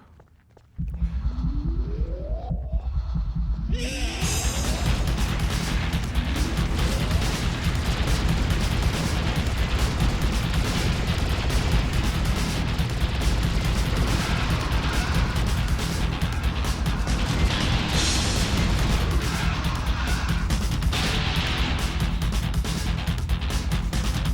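Relentless gunfire fills Alien Shooter 2, a dense stream of rapid shots and explosive bursts with no letup, loud and close after a brief quiet opening.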